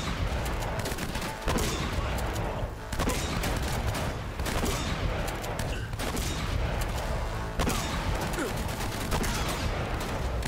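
Assault rifle gunfire in the video game Uncharted: Drake's Fortune: dense, repeated bursts of rapid shots with loud cracks and echoing impacts, continuing through the whole stretch.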